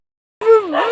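A dog in Kerala lets out a single short, loud bark that bends into a whine, close by, after a moment of silence.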